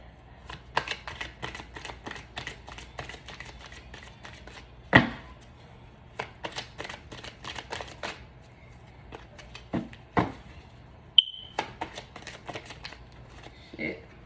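Tarot cards are shuffled for a reading in a rapid run of crisp, close riffling clicks with a few louder snaps, continuing alongside a voice.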